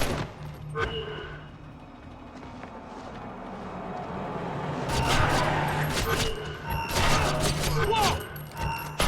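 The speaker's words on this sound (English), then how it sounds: "I'm hearing gunfire." Rapid bursts of gunfire crackle and pop in a busy Splinter Cell: Conviction game scene, growing denser and louder in the second half over a steady background hum.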